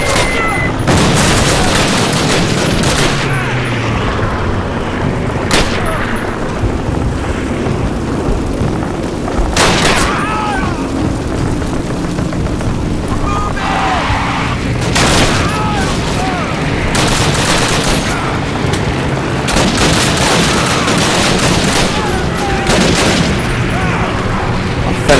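Call of Duty (the original game) battle sounds: repeated bursts of gunfire and heavy grenade explosions, dense and loud throughout, with a few sharp blasts standing out over a constant din of combat.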